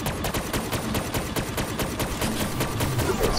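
Continuous automatic gunfire from the Gorgon weapon in Zetsubou No Shima, a zombies map, with dense rapid shots blending into a steady loud barrage and no talking.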